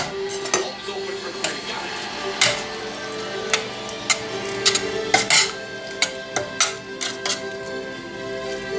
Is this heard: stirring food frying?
yes